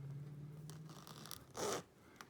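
A zipper on the outer cloth bag of a Hoover Elite II Total System Performance 650 U4689-910 upright vacuum gives one short, rasping zip over a quiet low hum, close and faint, with the zip itself damaged.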